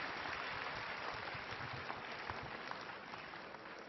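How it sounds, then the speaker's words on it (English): Steady applause from a BlizzCon 2011 audience for a StarCraft 2 panel, dense clapping that holds at an even level throughout, slightly easing toward the end. "How about one last round of applause for our panelists?"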